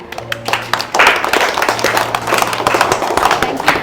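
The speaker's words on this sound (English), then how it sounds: "Okay, clap." Children clapping together in a classroom after a math answer, a brisk patter of hand claps that grows louder and denser partway through, with a little background noise.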